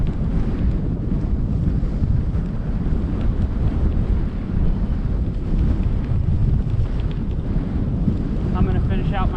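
Steady, loud wind buffeting the microphone during a ride on a Genesis Bohe bike with stage 1 upgrades, a constant low roar throughout with no clear speech.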